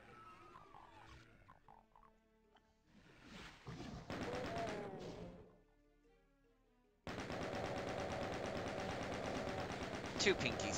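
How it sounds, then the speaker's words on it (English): A chain gun in Doom (1993) fires a sustained, even, rapid stream of shots, loud and continuous, after quieter stretches of growling monsters and other game noises; someone talks over part of it. "It really wants me to use the chain gun for some reason."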